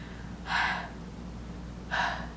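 A voice imitates heavy breathing with two slow, breathy exhales, close to the microphone, separated by a pause.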